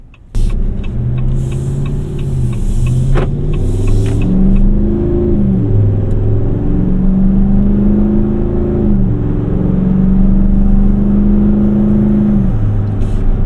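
A 2026 Ram 1500 pickup's V8 engine runs smoothly at a steady idle, its low rumble rising and falling slightly with light revs; no talking.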